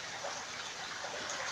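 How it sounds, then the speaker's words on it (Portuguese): Floodwater current rushing down a flooded street by a school in Fortaleza, a steady broadband gushing wash with no pauses, moderately loud and continuous. "Olha aí a correnteza"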